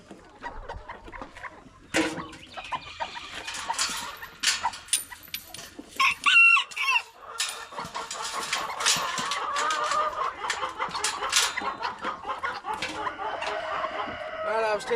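Hens cluck and a rooster crows around a small Tennessee homestead pen, with busy overlapping bird calls, one brief crow in the middle, and some background voices.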